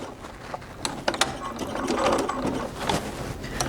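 Sewing machine running a zigzag stitch along a seam allowance on knit fabric with an open-toe presser foot, a close, steady mechanical whirring and clicking that builds in the second half.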